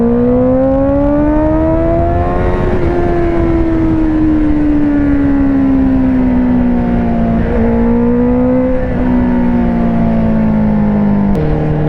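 A 2019 Honda CBR650R motorcycle on the move, its engine a loud continuous drone that rises and eases with the throttle, steady riding with gentle shifts in pitch and constant wind noise throughout.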